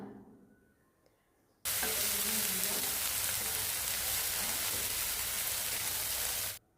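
Spice paste hits golden brown onions in a hot pan with a sudden loud, steady sizzle that holds for several seconds and then stops abruptly, while the pan is quiet beforehand.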